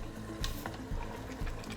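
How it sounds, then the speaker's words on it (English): A plastic spoon stirs and scrapes pot roast in a non-stick pot, giving a soft sizzle under three regular scraping strokes that recur about every half second, close and fairly quiet. "Stir it again. Make sure to scrape the bottom too so that nothing gets stuck to it."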